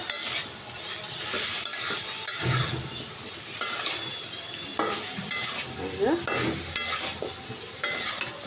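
Chicken curry with potato, carrot and pumpkin is stirred in a pan. A spoon scrapes and knocks close up in irregular strokes over a steady low sizzle.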